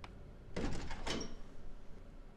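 A thick school door opens in the video game Yume Nikki, giving two quick, light clunking thuds in a row and then a soft fading tail.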